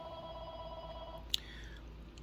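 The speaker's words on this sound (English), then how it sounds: "I'm not surprised that my phone is ringing to interrupt this." A phone rings faintly with a steady electronic tone for about a second during an incoming call, followed by a sharp click and a quieter fading tone, with no talking.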